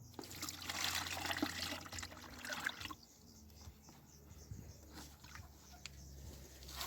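Nettle macerate liquid pours and splashes steadily into a one-litre cup for a few seconds, then thins to a quieter trickle with small drips and handling noises.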